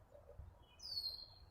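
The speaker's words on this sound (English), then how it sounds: "Y'all hear the birds?" A single high bird chirp rings out briefly over a quiet, low background hum.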